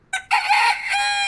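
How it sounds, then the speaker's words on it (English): A rooster crows once, a loud, close cock-a-doodle-doo sound effect with a short opening note followed by a long drawn-out call. "That deserves a rooster. Where's the rooster? I have a rooster here somewhere."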